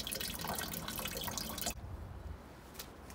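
Water trickles from the tap of a garden rain barrel, a steady broadband wash of flowing liquid that cuts off abruptly partway through, leaving only faint low rumble and a brief splash afterward.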